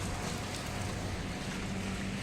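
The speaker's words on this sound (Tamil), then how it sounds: "நல்லா வந்து தண்ணி ஃப்ளோ ஆகிட்டுருக்கு." Water rushes in a steady, broadband wash at a beach resort reception area in Chennai, continuous and fairly close, with a low rumbling undertone and no voices.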